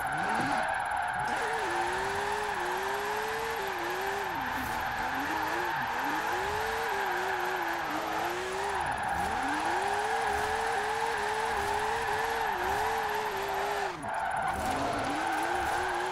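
A retro Porsche in Forza Horizon 4 slides and skids continuously, tyres squealing over a steady engine drone held in third gear, with the pitch wavering through long drifts and no talk over it.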